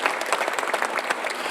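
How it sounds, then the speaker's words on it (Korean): A Korean church congregation applauds during a Sunday worship service, a dense, loud burst of many hands clapping continuously with no talk. "박수하세요"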